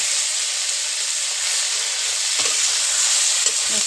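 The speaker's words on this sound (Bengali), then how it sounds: "কড়াইতে তেল বসিয়ে দিয়েছি, তেলটা গরম হয়ে গেছে, শুটকি আর রসুন একসাথেই দিয়ে দিচ্ছি" Dried fish and garlic hit hot oil in a wok, a loud, steady sizzle with a few scraping stirs of a spatula; no talking.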